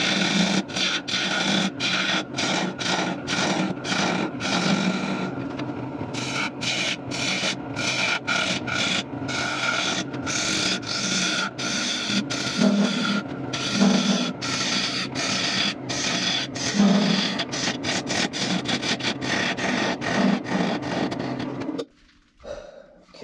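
A wooden bowl being hollowed out on a woodturning lathe gives a continuous rough scraping and rubbing from the tool, broken by frequent short gaps and cuts, ending with a few clunks.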